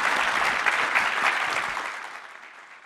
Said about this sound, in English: If I could get a round of applause for our four panelists.